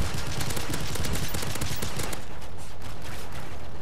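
Rapid, continuous automatic fire from a Barrett rifle in a video game, a dense, loud stream of shots running unbroken through the whole stretch with no talk over it.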